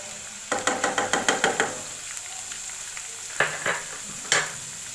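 Ginger garlic paste hits a hot pan of browned onions with a sizzle while a spoon stirs in quick clattering scrapes, followed by a few sharper knocks against the pan, close and clear with no talking.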